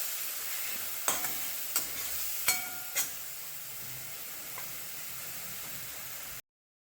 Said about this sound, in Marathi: थोडीशी हळद टाकते आता. एवढी हळद टाकायची, आणि वाटण आता भाजून घेऊ चांगलं.